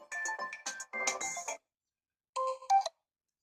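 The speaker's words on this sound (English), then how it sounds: "Let's select elegant default ringtone and go back." The default ringtone on an Infinix Smart 10 phone plays as a bright electronic melody of short tonal notes, pausing for almost a second before a brief closing phrase, clear and alone.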